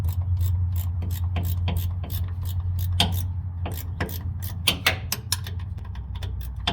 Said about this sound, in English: from here you can use a wrench to drive this bolt in.